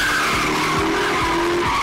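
Tires skid and squeal from the Daytona USA race car in a Virtua Fighter fighting game, a loud continuous screech with repeated sweeping engine tones underneath.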